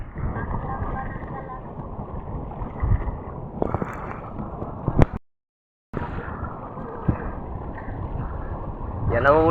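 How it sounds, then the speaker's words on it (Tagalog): Strong wind buffets the microphone on a small fishing boat at sea amid big waves, a loud, constant rushing roar with bumps and knocks and a short dropout in the middle, and people talk over it. "Napakalakas ang hangin"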